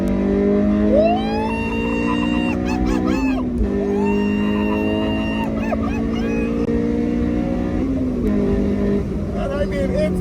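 A 2007 Honda S2000 engine revs up through the gears from inside the car, rising tones falling at each shift, loud and sustained under continuous talk from the driver.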